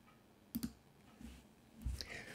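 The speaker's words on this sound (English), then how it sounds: "And we'll click continue." Quiet mouse clicks on a Mac computer: a quick pair of close, crisp clicks, then a fainter click moments later in a hushed room.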